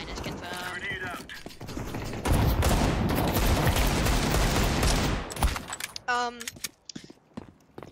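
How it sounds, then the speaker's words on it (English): A shotgun blast in Counter-Strike 2 sounds amid a dense, loud burst of gunfire and game noise lasting a few seconds, with voices talking before and after it. "I just got launched 38 feet by a shotgun"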